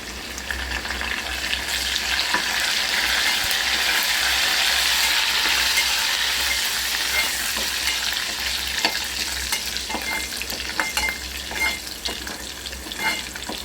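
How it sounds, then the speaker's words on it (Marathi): Cumin and garlic sizzling in hot oil in a pan as curry leaves go in for an egg curry, a loud steady crackling fry with scraping stirring throughout, close by and without talk. "बघा आपलं जिरं आणि लसूण भाजून निघत आहे त्यामध्ये आपण आता कढीपत्ता टाकूया"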